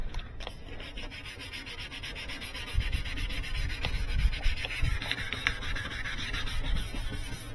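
Wet sanding a 2006 BMW X5 headlight lens with 400 grit paper, a close, steady rubbing scrape with irregular strokes that grows slightly stronger partway through.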